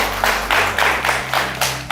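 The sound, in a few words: audience applause for a woman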